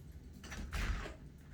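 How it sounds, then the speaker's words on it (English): A door is opened indoors: one brief, muffled burst of scraping and knocking about midway, fairly faint against a quiet room. "Let me open my door."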